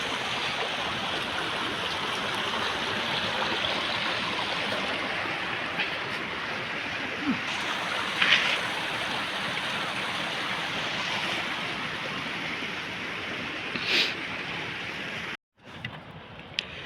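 Glacial meltwater stream rushing near Gomukh in the Himalaya, a loud, dense and continuous roar of fast-flowing water heard up close, steady throughout apart from a brief dropout near the end.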